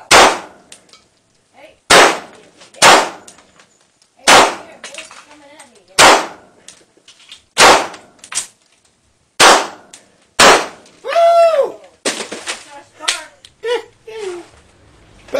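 Gun repeatedly fired at a laptop, about ten sharp cracking impacts spaced roughly a second or two apart, loud and close, with brief chatter between shots.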